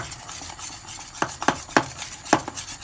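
Macaroni cheese sauce being mixed with a spatula in a pan: a handful of sharp scraping strokes at an uneven pace, close and fairly loud over a soft background hiss.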